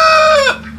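Laying hens on a homestead give a single loud, close cluck-like call that falls and fades within a second, with no talk.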